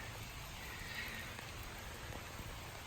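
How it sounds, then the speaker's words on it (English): Rain begins falling on a lawn outdoors, a soft, even hiss of drops spread across the surface with a few faint patters, steady and fairly quiet throughout with no voices. "here comes the rain."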